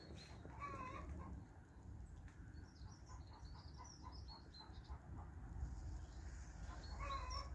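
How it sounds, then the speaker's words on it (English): Faint chicken calls and clucking cackles come and go in the distance, buried under steady cold wind rumble. "Don't know if you can hear the chickens."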